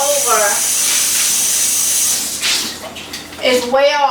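Hot water is scooped out of a canning pot during water bath canning, heard as a steady steamy hiss with splashing and pouring. A voice talks briefly at the start and end.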